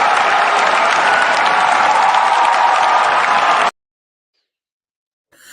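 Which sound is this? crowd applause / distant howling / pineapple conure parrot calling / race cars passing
crowd applause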